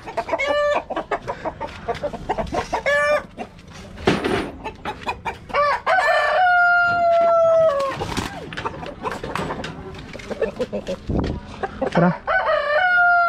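Roosters at a chicken farm crow repeatedly and hens cluck throughout, loud and close, with some overlapping calls and faint talk in the background.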